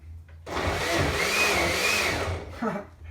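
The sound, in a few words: blender running on low speed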